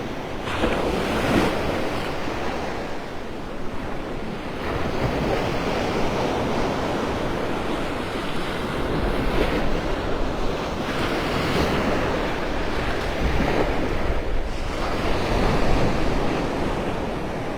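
Waves breaking on the Gulf of Mexico shore at Vanderbilt Beach in North Naples, Florida, under strong wind buffeting the microphone, a continuous loud roar of surf and gusts with no voices.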